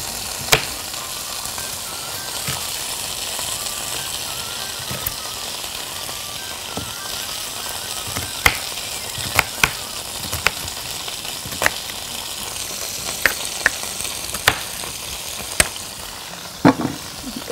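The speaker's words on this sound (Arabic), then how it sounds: "هحط بقى فيه الخضار اللي هنا ده اللي هو عبارة عن بصل." Onions frying in a pan give a steady, fairly loud sizzle with sharp spatula clicks and scrapes scattered through, and no talk over it.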